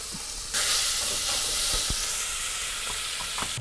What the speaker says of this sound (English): This is applewood smoked bacon and throw it in this pot and let it start searing up.